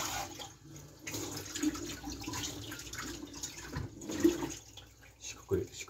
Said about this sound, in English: I'm going to quickly wash this.